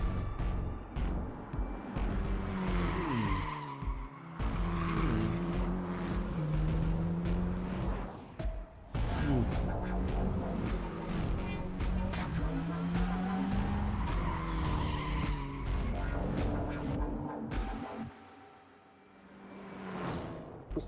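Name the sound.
car driving and tire skidding sounds from Cyberpunk 2077 video game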